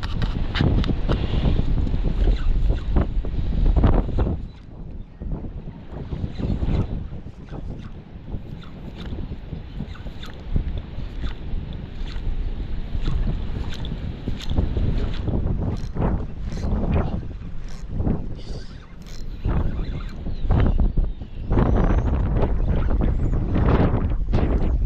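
Steady gusting wind buffets the microphone along a breezy Taiwanese coast near windmills, a broad continuous roar with irregular thumps and surges that swells and eases throughout.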